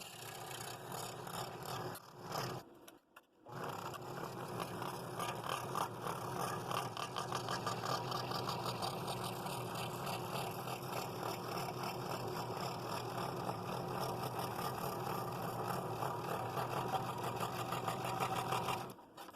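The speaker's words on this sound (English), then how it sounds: "That's a good wood cut. The blade worked really well on that." A saw blade cutting through hard wood for a yin and yang box, giving a steady buzzing whir that runs almost unbroken for nearly twenty seconds after a brief stop and restart near the start, with no talking.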